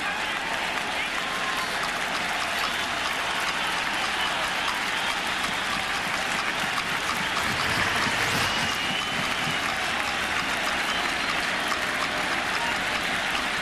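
A packed stadium crowd at a 2000 World Series game between the New York Mets and the New York Yankees roars steadily, a dense, loud, sustained wall of cheering and clapping urging a strikeout.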